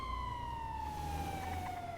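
Police car siren in a GTA roleplay video game, a steady wailing tone that slowly falls in pitch, near and loud over low engine rumble, with no talk.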